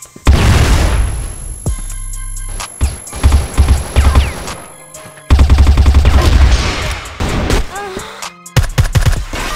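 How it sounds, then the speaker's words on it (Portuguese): Gunfire in a video game, with loud rapid bursts and booming shots in uneven clusters broken by brief gaps and a few crashing impacts. "Tiro."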